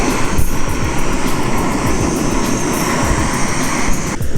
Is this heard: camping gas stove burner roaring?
yes